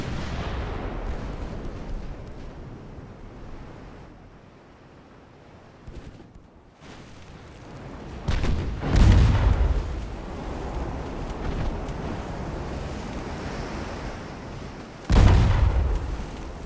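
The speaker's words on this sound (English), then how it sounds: "The Juice class, that's the first blood with the 6-inch cannon at that." 6-inch and 3-inch naval cannons fire from warships in a Spanish–American War battleship game, two heavy, booming blasts spaced several seconds apart over a steady windy, rumbling background.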